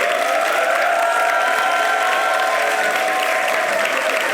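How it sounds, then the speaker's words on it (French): Studio audience at a French-language talk show applauds a guest's entrance with loud, continuous, even clapping that fills the whole stretch without any speech. "Applaudissements."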